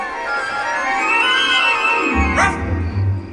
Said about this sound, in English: A dog! It's a ghost dog.